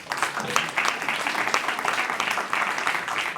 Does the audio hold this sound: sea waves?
no